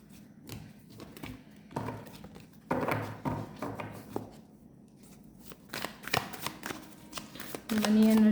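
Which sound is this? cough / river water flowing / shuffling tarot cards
shuffling tarot cards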